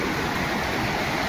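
Floodwater after heavy rain rushes past in a village, a loud, continuous roaring wash of water heard alone and close.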